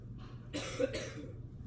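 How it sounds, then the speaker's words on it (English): A sick child coughs a couple of times, short harsh bursts close to the microphone against quiet background hum. "I apologize for you hearing my son coughing."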